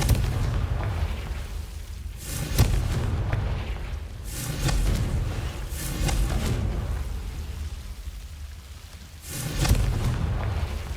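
Repeated booming blasts from the Confringo fire spell in Hogwarts Legacy, several heavy explosions spaced a few seconds apart over rumbling game ambience, with no talking.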